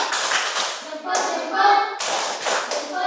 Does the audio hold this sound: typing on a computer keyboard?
no